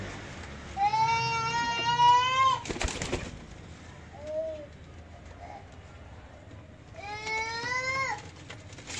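Teddy pigeons cooing, with two drawn-out, rising-and-falling calls near the start and end and a softer brief call between them, heard close up against quiet background noise.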